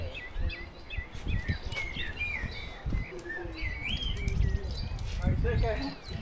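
Birds chirp and whistle in short, varied phrases over a low rumbling background, with people talking nearby, at a tea room in Valley Gardens, Saltburn, North Yorkshire.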